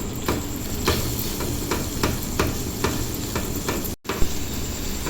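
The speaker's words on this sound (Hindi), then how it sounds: "अभी ये पूरे मसाले मैं इसमें डाल देती हूँ और अच्छी तरह मिक्स कर लेती हूँ" Spices stirred and fried in a pan for semolina kachori filling sizzle steadily while a spoon scrapes and taps the pan in a loose repeating rhythm, close and fairly loud.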